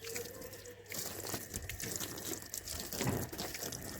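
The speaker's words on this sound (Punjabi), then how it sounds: "ਪਾਣੀ ਆਇਆ ਸੀ ਔਰ ਆਪਾਂ ਧੋਣ ਲੱਗੇ ਸੀ ਸਕੂਟਰੀ" Running water splashes while a scooter is washed, a quiet, continuous trickling and spattering with small drips, heard from close by at low level.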